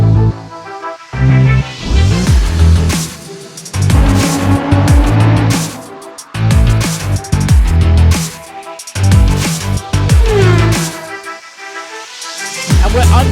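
Race cars launch at the start of a race in a racing game at Qatar, with engines roaring in loud rising bursts, gear changes cutting the sound and brief tire squeals as the pack pulls away.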